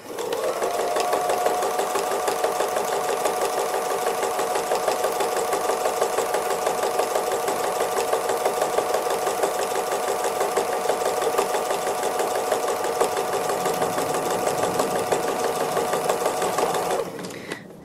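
A sewing machine stitches free motion embroidery of a heart, its fast steady needle drone running loud and continuous for about seventeen seconds before stopping abruptly at the end.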